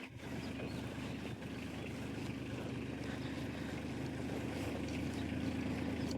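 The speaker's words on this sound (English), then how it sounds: "Look, here comes the tractor again, Googie." A tractor engine drones steadily on a trail, a low rumbling motor holding an even pitch and gradually growing slightly louder as it draws closer.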